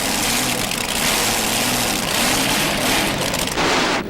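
Pulling tractor engine at an outdoor tractor and truck pull, a loud steady mechanical roar holding for several seconds before cutting off abruptly at the end.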